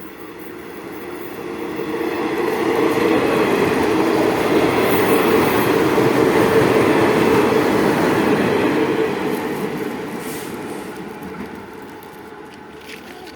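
A train passes through Cha-am, its roar swelling from faint to loud and then fading away, with a steady rolling rattle of wheels throughout.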